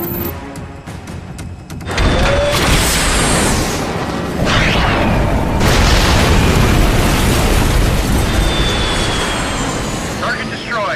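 A missile strike explosion in an action movie erupts into a loud, sustained roaring boom with rumbling debris, following a brief stretch of quieter tense sound and lasting for several seconds.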